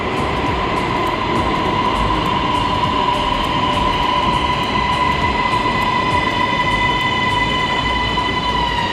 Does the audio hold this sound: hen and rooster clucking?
no